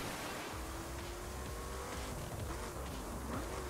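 Racing car in The Crew video game, an engine drone running steadily and close, with a continuous wash of road and tire noise throughout.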